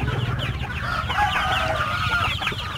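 A flock of chickens in a rural yard clucks busily during morning feeding, a dense, continuous chorus of overlapping calls close by, with a rooster crowing somewhere in the mix.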